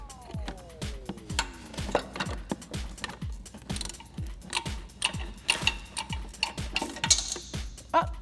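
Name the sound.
16mm ratcheting wrench loosening a Jeep shock nut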